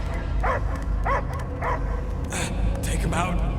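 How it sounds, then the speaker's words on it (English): A dog-like creature in the Guardians of the Galaxy video game barks and yips in several short bursts, close and loud, with voices talking around the barks. "I hear only barking"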